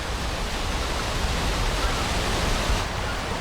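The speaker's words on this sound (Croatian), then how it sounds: "Sava ovdje požuruje preko tih prepreka" The Sava river rushes over weir obstacles near a heating plant, a steady broadband roar of water that fills the whole clip without pause.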